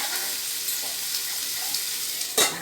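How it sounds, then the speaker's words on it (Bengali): Potato pieces for aloo posto frying in hot oil, a steady soft hiss and crackle at moderate loudness, with a brief clatter near the end. "এতে আলু তেল গরম হয়ে গেছে, আলুগুলো দিয়ে দিচ্ছি"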